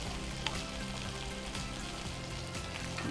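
Capsicum fries in a pan for a malai chicken curry, giving a close, steady crackling sizzle with faint scattered pops and no talking.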